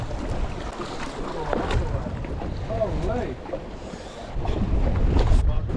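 Strong wind buffeting a fishing boat at sea during slow-pitch jigging for coral trout, a steady loud roar with rushing gusts and water wash that swells toward the end.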